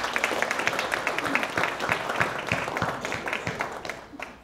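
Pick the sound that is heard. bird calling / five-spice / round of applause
round of applause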